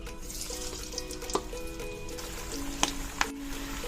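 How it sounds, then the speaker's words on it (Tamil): Masala vada (paruppu vadai) frying in hot oil: a soft continuous sizzle with occasional crackles and sharper pops, close and moderately quiet, with no voices. "இப்போ ஒன்று ஒன்றா போட்டு பொரிச்சிடலாம்"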